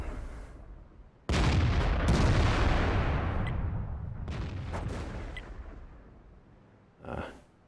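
A tank cannon in the World of Tanks video game fires one loud, booming shot that rumbles and fades over several seconds, followed by a shorter, sharper burst near the end; no one speaks.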